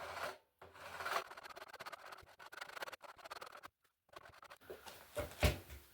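A file rasping down stainless steel frets on a bass guitar neck toward the wood, repeated scraping strokes with brief pauses, close and fairly quiet, the tone shifting as less metal remains.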